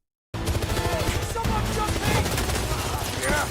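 Gunfire in 007: First Light, dense rapid bursts of shots starting abruptly and continuing loud and close, with a voice faintly underneath.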